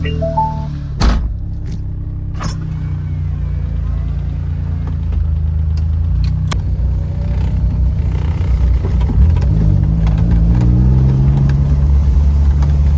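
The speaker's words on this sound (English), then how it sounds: "let's go for a test drive" A Honda Beat fitted with a big brake kit on a test drive, its small engine droning steadily with road rumble and a couple of sharp thunks inside the cabin while a person talks over it.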